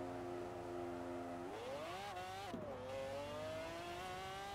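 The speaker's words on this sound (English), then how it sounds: "it is satisfying to hear and see the boost just kind of build up like this" Forza Horizon 4 car engine note rises in pitch as turbo boost builds, a steady whining drone climbing, dipping briefly, then climbing again, with no talking.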